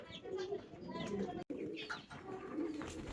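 A Lotan pigeon, a fancy domestic breed, coos repeatedly at close range in soft rolling phrases, with faint background noise and a brief break midway.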